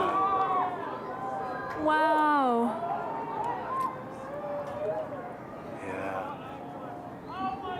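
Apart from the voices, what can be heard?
people screaming and cheering at annular solar eclipse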